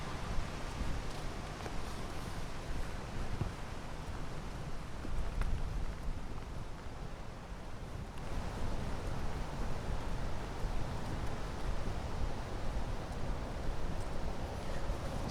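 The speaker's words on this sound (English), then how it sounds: "It isn't so much rainy right now than it is windy." Steady outdoor wind roaring as a broadband rush across the U.S. Open tennis grounds in New York City, constant and fairly loud throughout with slight gusty swells and no voices.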